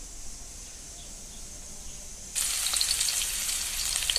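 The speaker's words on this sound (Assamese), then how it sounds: "তেলত পিঁয়াজ দিলোঁ" Onions hit hot oil in a wok for a taro and potato curry, bursting into a sudden loud, steady sizzle after a quiet start and continuing close-up to the end, with no talking.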